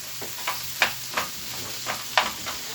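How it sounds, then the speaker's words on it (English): Braised bacon and vegetables with snap peas and red peppers being stirred in a pan, a series of short scraping and sizzling strokes at an uneven pace over a steady soft sizzle, close and fairly quiet. "And we're going to stir that in there and let those flavors marry up a little bit."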